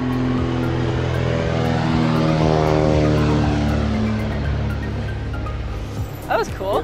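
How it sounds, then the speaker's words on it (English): A propeller airplane passes overhead near a lake, its loud droning engine holding steady and then fading as it moves away, with brief voices at the end. "Here comes an airplane."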